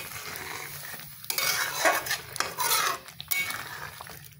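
Spinach being stirred in a pan for palak paneer, with soft scraping and clinking of a spoon against cookware over a faint sizzle, irregular and close.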